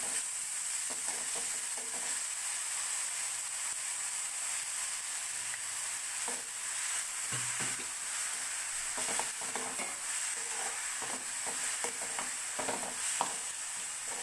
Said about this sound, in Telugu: ఉసిరికాయ కొంచెం వేగుతుంది కదా